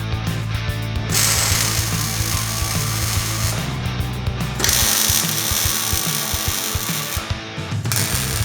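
Ratchet and power-tool clicking while fastening a fabricated transmission tunnel on a 1971 Camaro RS, loud and close, in continuous runs broken by short pauses.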